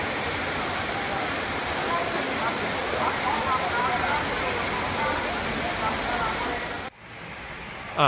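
Muak Lek waterfall sends a loud, steady roar of rushing water that fills the scene continuously before cutting off abruptly near the end.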